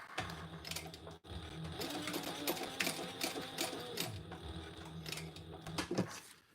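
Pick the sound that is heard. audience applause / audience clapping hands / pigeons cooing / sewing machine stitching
sewing machine stitching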